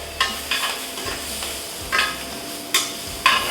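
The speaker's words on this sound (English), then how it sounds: "Just let the prosciutto get a little crispy." Prosciutto crisping in a hot pan gives a soft, steady sizzle broken by a few sharp scraping stirs of a utensil against the pan, close up and with no one talking.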